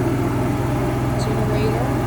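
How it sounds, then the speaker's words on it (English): A jack on a 2018 Forest River Vengeance Touring Edition 381L12-6 RV raises with a steady, close motor hum and a low droning pulse that holds evenly throughout. "Raising jack."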